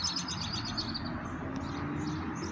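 Small birds chirp and tweet in rapid repeated calls by a river and railroad tracks near a city downtown, set against a steady outdoor hum.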